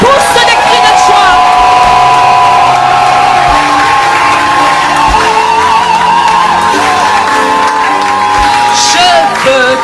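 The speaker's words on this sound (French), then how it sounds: "Pousse des cris de joie." A church congregation at an intense prayer gathering cheers, whoops and shouts joyfully, a loud, continuous roar of many voices filling the room.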